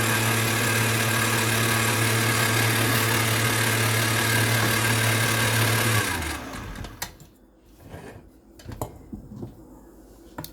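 An electric stand mixer runs steadily and loudly as wet ingredients are beaten into a cinnamon raisin sourdough batter, then cuts off about six seconds in, leaving faint kitchen clatter.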